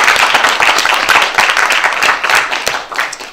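Lively applause from a crowd welcoming guests at a Korean art song concert, steady dense clapping throughout, loud and close.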